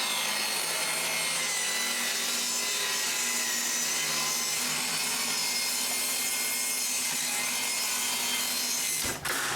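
Wooden strips being ripped narrower on a saw, a continuous loud rasping cut with a steady motor whine that runs nearly ten seconds before dropping away at the end.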